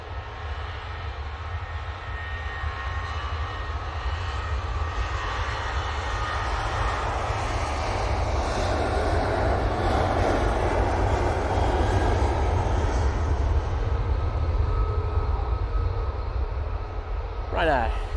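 A Ryanair Boeing 737-800 departs for Belfast from Manchester Airport, its jet engines building to a loud, steady roar that holds and swells before easing slightly near the end, with a speaking voice in the background.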